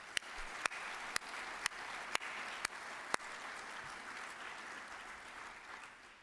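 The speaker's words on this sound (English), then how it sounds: "please join me in another round of applause for all of the students who participated in our opening events" Steady applause from an audience at a school armed services ceremony, with sharp individual claps standing out at a regular rhythm early on, then continuing at an even level.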